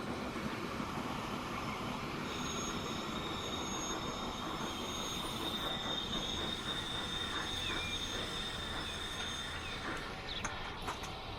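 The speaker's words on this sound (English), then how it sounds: "That's a cool looking locomotive looking at it from the front." A locomotive train running in the video game Transport Fever 2 gives a steady, loud rumble of rolling wheels, with thin high squeals of wheels on rails drifting over it and no talking.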